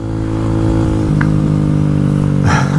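Kawasaki Z125 Pro motorcycle cruising at about 50 mph: a loud, close, steady buzzing engine drone with a slight shift in pitch as it rides over bumps, with no talking.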